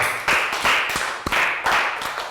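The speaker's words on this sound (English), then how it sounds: "Round of applause for Prao." A Year 3 health education class claps for a student in short bursts, about four clusters of crisp clapping separated by brief pauses, close and fairly loud.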